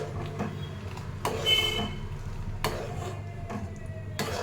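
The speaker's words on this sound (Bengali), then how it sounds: "এবার এর মধ্যে আমি সিমুইটাকে দিয়ে দেবো। দিয়ে ভালো করে নাড়িয়ে দেবো, যেন নিচে জমাট বেঁধে না থাকে।" Vermicelli (simui) stirred in boiling milk in a pot: a few scraping, clattering strokes of a spoon against the metal pot at irregular intervals over a low background hiss.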